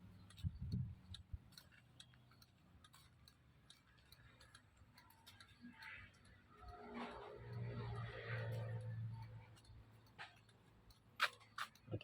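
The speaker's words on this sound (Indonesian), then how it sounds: "Kita alihkan ke sen kiri." The left turn signal relay on a 2008 Honda Supra X125R motorcycle ticks faintly and steadily in a quiet setting, a soft regular clicking with occasional low rumble and brief background noise.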